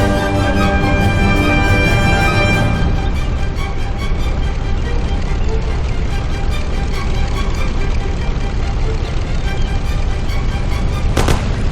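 Sustained heavy gunfire roars from start to finish in Mafia: The City of Lost Heaven, a dense, loud wall of overlapping shots with no pauses and no talking over it.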